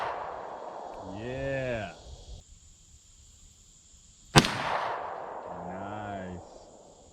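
One sharp, loud AR-15 rifle shot cracks outdoors toward a homemade target, ringing briefly after, with short voiced remarks before and after it.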